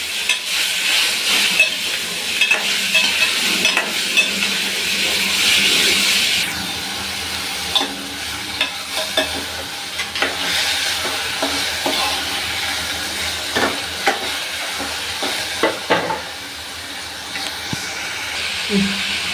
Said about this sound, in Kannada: ಈಗ ಟೊಮೆಟೊನು ಹಾಕೊಳ್ತಾ ಇದ್ದೀನಿ ಟೊಮೆಟೊ ಸ್ವಲ್ಪ ಸಾಫ್ಟ್ ಆಗೋವರೆಗೂ ಒಂದೆರಡು ನಿಮಿಷ ಫ್ರೈ ಮಾಡ್ಕೊಳ್ಳಿ